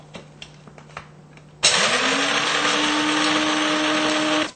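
An Nvidia FX 5800 graphics card cooler fan kicks on abruptly after a quiet stretch of faint background noise, then roars loud and steady with a rising whine that holds for several seconds before cutting off.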